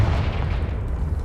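A Confringo fire spell explodes in Hogwarts Legacy with a dull, rumbling boom that lingers briefly as a low roar, loud and close.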